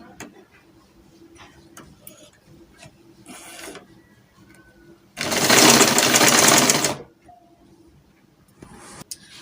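A sewing machine stitches the side seam of a summer spaghetti-strap dress in one loud, steady burst of about two seconds, with quiet handling and faint mechanical ticks before and after.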